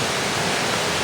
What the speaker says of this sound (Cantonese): 都係嗰條瀑布喺呢度